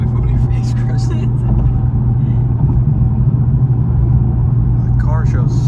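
A BMW M240i crossing the Robert Moses Bridge gives a steady, close engine and road-noise rumble from inside the cabin, with low droning tyre roar throughout and faint voices in the car.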